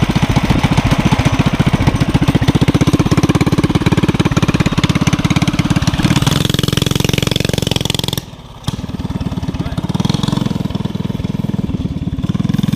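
A go-kart's small gas engine runs off a 79cc gas tank, chattering loudly and steadily nearby before briefly cutting out and sputtering back to life.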